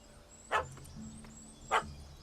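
Dog in The Witcher 3 barking twice at a cat, two short sharp barks spaced about a second apart over quiet game ambience.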